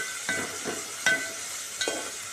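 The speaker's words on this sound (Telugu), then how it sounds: "ఇలా నూనెలో వేసుకొని మంచిగా వేయించుకోవాలి" Dried prawns frying in oil for a prawn curry with onion, a soft sizzle punctuated by three or four distinct stirring scrapes at roughly even intervals, close by and without talk.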